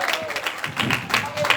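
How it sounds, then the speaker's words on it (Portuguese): A church congregation claps in a brief burst of scattered applause, mixed with voices. "aplauda o nome do Senhor"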